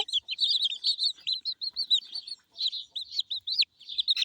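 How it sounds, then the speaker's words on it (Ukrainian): Small backyard flock of hens giving rapid, overlapping high-pitched clucks and chirpy calls, fairly close and continuous with brief gaps, with no talking. "кури, то вони квокчуть як дурні зараз"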